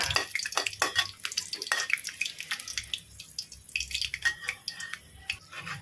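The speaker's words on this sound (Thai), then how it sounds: "ตอนนี้น้ำมันร้อนแล้วนะคะ เราใส่พริกลงไปเลยค่ะ" Dried chinda chilies, small and large, fry in hot oil with a soft crackling sizzle and scattered pops, fairly quiet and close, with occasional light stirring.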